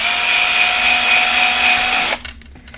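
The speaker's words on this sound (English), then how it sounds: "So I've got a 1/8 of an inch drill bit here, and we're just going to quickly drill through the top of the vignette" A power drill with a 1/8 inch bit bores through the top of a wooden craft vignette: a loud, steady whirring grind for about two seconds that stops abruptly, followed by quieter handling noise.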